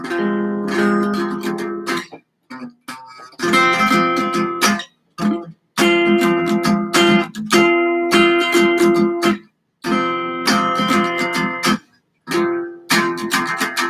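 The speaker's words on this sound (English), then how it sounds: "Let's get right to these last bottom string chords." Guitar chords strummed on the lower strings, played in bursts with brief silent gaps between them, loud and close.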